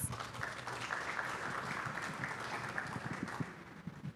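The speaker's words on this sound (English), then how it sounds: "Give him a big round of applause." A morning crowd at Oaklawn claps in steady, faint applause to welcome track announcer Vic Stauffer, a soft continuous patter from across the room.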